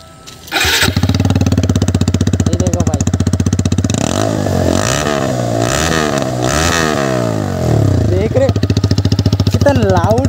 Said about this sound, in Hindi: एक बार सुन लो यार, ओनली बैंड पाइप का साउंड।